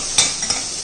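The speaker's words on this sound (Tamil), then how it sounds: "வெள்ளைப்பூடும் இஞ்சியும் பச்சை வாடை போகிற அளவுக்கு நம்ம வதக்கிக்கிறோம்." Ginger and garlic being sautéed in a pan, a brief burst of sizzling with two quick stirring scrapes, close and fairly loud.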